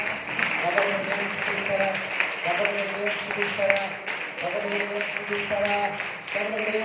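A congregation at a fasting prayer service claps in praise with fast, repeated, fairly loud claps, while a prominent voice talks and calls out over them.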